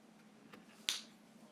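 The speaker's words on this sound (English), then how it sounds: "And yet all I do is snap my fingers." A magician snaps his fingers once, a single crisp, quiet crack over a faint background hum.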